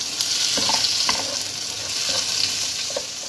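Spices for prawn pulao sizzle and fry in a pan as they are mixed, a steady hiss with occasional soft scrapes and knocks from a stirring spoon, no talking.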